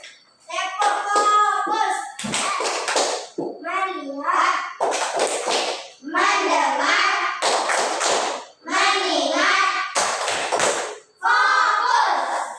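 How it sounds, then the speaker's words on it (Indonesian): Schoolchildren in a classroom perform the tepuk fokus clapping routine, chanting in unison between rhythmic bursts of claps, with repeated short, sharp hand patterns punctuating the group voices. "Coba dulu tepuk fokus."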